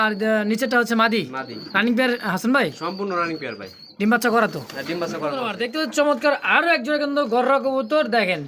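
Pigeons at a pigeon farm coo in low, throaty bursts beneath nearly continuous close-up talking that dominates the scene.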